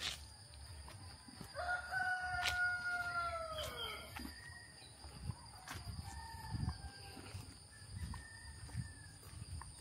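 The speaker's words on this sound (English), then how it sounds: "Native poultry." A rooster crows on a farm of native poultry, its long call rising clearly over a quiet outdoor morning, followed by softer clucks and more distant crowing.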